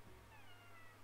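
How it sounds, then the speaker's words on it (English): A black cat gives a single short, faint meow, rising then falling, against a quiet room hum. "she's a black kitty"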